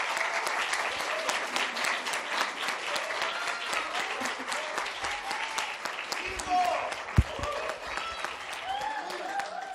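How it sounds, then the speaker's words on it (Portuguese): Audience applause at a liberal-ideas forum event in Brazil, a steady wash of many hands clapping for several seconds, with a brief louder thump near the end. "queria que a gente desse uma salva de palmas"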